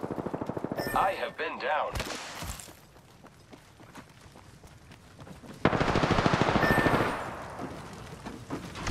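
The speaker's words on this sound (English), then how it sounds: "I am taking fire, friends." Rapid automatic gunfire bursts in the Apex Legends battle royale, loud and close, with a quieter stretch in between and a long heavy volley near the end, while a player's voice speaks briefly over it.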